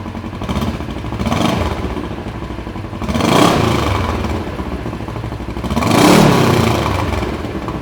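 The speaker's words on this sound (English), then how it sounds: "I'll rev it up a bit." Kawasaki KRX 1000 side-by-side engine fitted with a GGB trail muffler, idling with a throaty tone and then revving up in three rising surges, loud and close with no talk.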